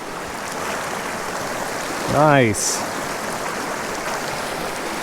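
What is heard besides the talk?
flowing creek water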